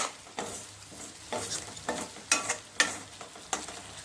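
A spice paste being stirred and fried in a pan, heard as a soft sizzle broken by regular scraping strokes of a spoon, about one every half second, close and fairly quiet.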